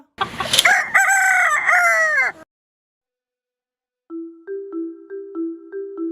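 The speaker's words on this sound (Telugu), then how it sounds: "ఫిర్దౌస్ అంటే నా కోడి" A loud rooster crows close by in one long, strained call, then after a pause a series of shorter, clucking calls follow.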